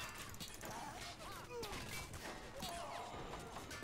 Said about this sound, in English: Oh, explosions are gonna happen.